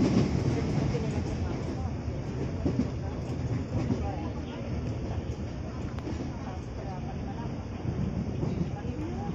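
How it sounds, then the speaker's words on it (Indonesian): A Jakarta commuter train pulls into a station: a loud, steady low rumble of wheels and carriages running throughout, with faint rattling and a voice speaking over it. "Tuh, keretanya udah datang."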